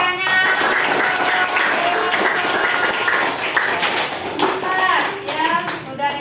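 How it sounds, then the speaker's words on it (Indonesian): A classroom of children claps hands together at a teacher's prompt, a steady bright patter of many hands with children's voices chattering loudly over it throughout. "Baik, tepuk tangan"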